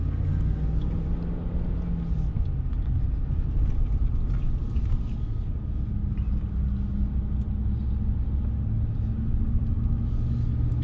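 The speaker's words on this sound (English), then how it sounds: "I feel my tires slipping." A pickup truck in 2-wheel drive grinds uphill on Mt. Nebo, its engine making a steady low rumble heard from inside the cab as the tires slip, with no clear change in pitch.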